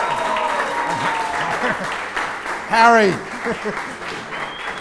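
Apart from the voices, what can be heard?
applause for an award winner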